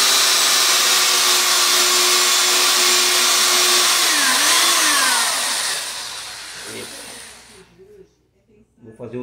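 A power drill bores a hole in an old broom handle, whining at a steady pitch for several seconds, then dipping and wavering before winding down to quiet. Someone speaks near the end.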